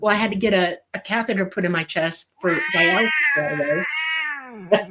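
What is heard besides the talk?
cat meowing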